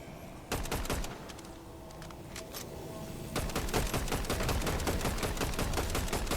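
Rapid assault rifle bursts from a Fortnite Zero Build match crackle as dense volleys, some nearer and louder, the firing growing more continuous in the second half with brief quieter gaps.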